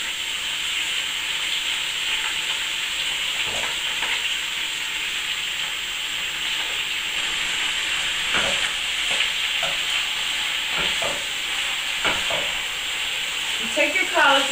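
Collard greens sizzling in a pan with olive oil, garlic and pepper, a steady hissing fry throughout with occasional soft stirring scrapes and clicks, moderately loud and close.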